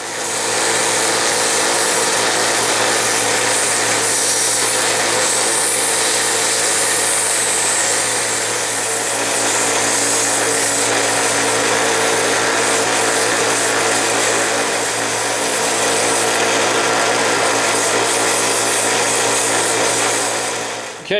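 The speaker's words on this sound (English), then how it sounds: "So I'm going to start out on this belt sander" A belt sander grinds steadily against a hunting knife handle, a continuous close abrasive whir with gentle swells in loudness and no pauses throughout.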